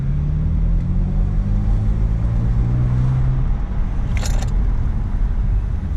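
A BMW E90 335i with an automatic transmission drives on the road after a coil swap fixed a misfire, its engine drone steady and loud inside the cabin, with a brief high whine partway through.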